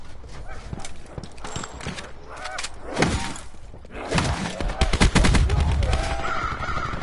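Shotgun fire in a video game: a few heavy, booming blasts burst out among busy, cluttered game sounds, with one louder shot near the middle and a denser stretch toward the end.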